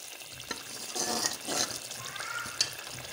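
Potatoes frying in a spice masala, a steady low sizzle with a few soft stirring scrapes and clinks, close and moderately quiet.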